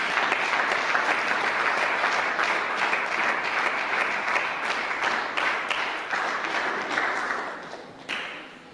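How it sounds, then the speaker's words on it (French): Church congregation applauding for the Lord in a French-language sermon: dense, sustained crowd clapping with rhythmic bursts, fairly close, easing slightly before a final flourish. "Est-ce que tu peux acclamer pour le Seigneur?"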